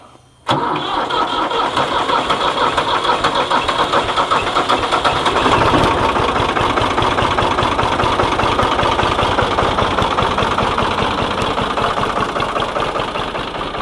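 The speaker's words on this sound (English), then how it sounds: "that's the noise it makes when it cranks" A loud tractor engine cranks continuously with a rapid, rhythmic churning after a brief pause, turning over steadily for over ten seconds without catching.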